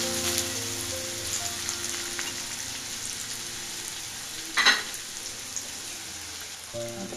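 Grated raw mango sautéing in a pan for mango rice, a steady soft sizzle running throughout with one brief louder clatter near the end, no voices.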